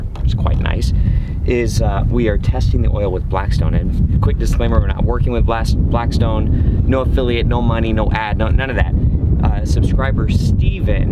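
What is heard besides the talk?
strong wind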